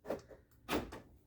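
Rear door lock actuator on a 2006–2010 Ford Explorer clunking as it locks: two short mechanical thunks about half a second apart, close and fairly quiet, with no talk over them.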